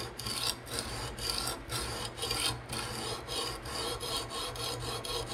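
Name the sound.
sharpening M390 knife blade on TSProf diamond resin stone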